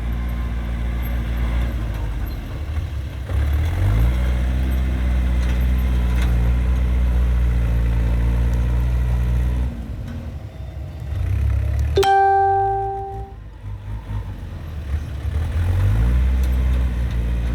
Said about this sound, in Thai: เขาแก่ใหญ่จัดเองครับขับรถไถเองเลย